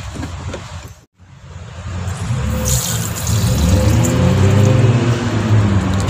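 Shower water runs steadily inside a camper van, a continuous close splashing hiss that starts after a brief gap and grows fuller and louder partway through, with no talking.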